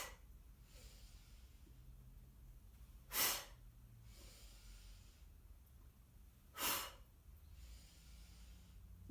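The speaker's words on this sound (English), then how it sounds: "See if you can really exhale as you come forward." Two forceful breaths out during a yoga session, each a brief airy whoosh a few seconds apart, close and distinct against a quiet background.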